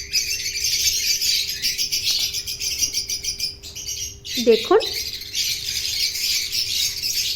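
Lovebird chicks and their parents chirping and twittering in a steady high chatter throughout, with a brief louder squawk midway and a short spoken word over it.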